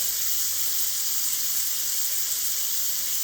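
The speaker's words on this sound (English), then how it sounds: "You can already see on this high heat how quickly the meat has seared." A grass-fed ribeye steak sears on high heat, giving a steady, close, unbroken sizzle and hiss with no voices.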